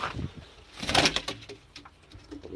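A soft pigeon coo rises briefly among rustling and scattered clicks, fairly close, with no talk.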